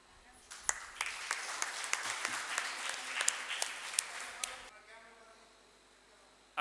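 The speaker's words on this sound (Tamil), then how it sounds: "உங்களுடைய உற்சாகமான கைத்தட்டல் கொஞ்சம் எழுந்து நின்று பண்ணால் சிறப்பாக இருக்கும்." An audience at an honoring ceremony claps together in a steady round of applause with a few sharp, distinct claps standing out. It stops abruptly after about four seconds, leaving quiet room tone.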